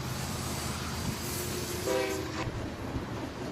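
A military train hauling tanks, fuel trucks and support vehicles rumbles steadily along the rails, and its horn sounds once in the middle in a short, loud blast over the continuous rolling noise.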